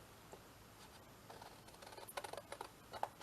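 Scissors snip through paper while a double paper pocket is cut out for a shabby chic craft project, faint, quiet crisp cuts that grow more frequent toward the end, with no talking.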